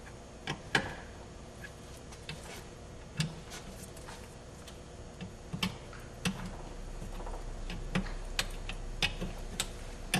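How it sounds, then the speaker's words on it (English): An 11/16 wrench tightens hose fittings onto elbows on a concrete pump manifold, giving sparse, quiet metallic clicks and ticks scattered irregularly over a faint background hum. "Tightening the hoses back onto the elbows with an 11/16 wrench."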